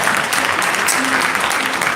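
Audience at a Samsung Galaxy for business event in Riga gives a round of applause, a thick, close wash of clapping hands that stays loud and steady throughout.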